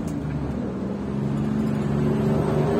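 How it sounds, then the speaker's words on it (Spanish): Steady car traffic in Mexico City heard from inside a vehicle, a continuous low engine hum and rumble that swells slightly, with no talking. "Pues hay tráfico aquí en la Ciudad de México"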